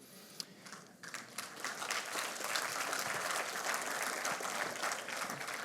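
A church congregation breaks into applause during a sermon, starting with scattered claps and swelling into a sustained, full round of clapping for several seconds.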